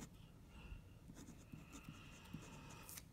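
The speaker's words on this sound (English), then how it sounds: "one thing we can make it this pen write thinner is that we reverse write it" A Parker 45 fountain pen writing with its nib reversed on paper gives a faint, slightly scratchy scraping of short strokes, close up against a quiet background hiss.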